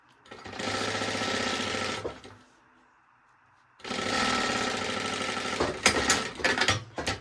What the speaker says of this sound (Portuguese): eu vou pegar aqui, ó, costurar na margem de 1 centímetro, avesso com o principal.